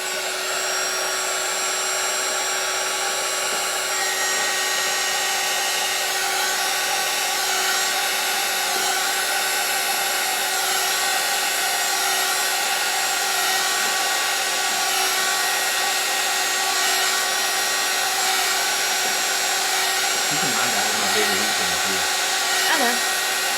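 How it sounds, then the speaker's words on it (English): A heat gun blows a steady, loud whooshing stream of hot air over epoxy in a resin-crafting project, running continuously with a constant whine, with a faint voice briefly near the end. "Oops, I stuck my heat gun in epoxy."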